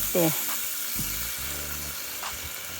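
Squid sizzling on a grill while seasoned with salt, pepper and lemon juice, a steady close hiss of frying with faint clinks, while a person speaks over it.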